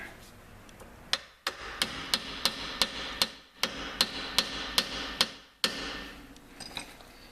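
A steady series of sharp hammer blows on metal while installing a rear shock, evenly spaced and ringing, about a dozen strikes with a few short pauses.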